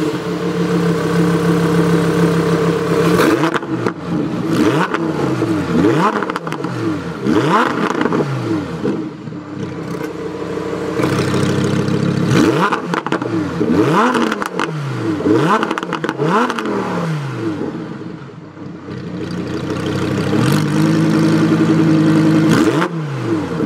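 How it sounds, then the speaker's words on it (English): A 2018 Lamborghini Huracán Performante idling in Corsa mode, its exhaust a loud, close, aggressive burble punctuated by several sharp throttle blips that flare and fall back to idle. "going into Corsa, it's now even more aggressive with the idle and a little bit louder"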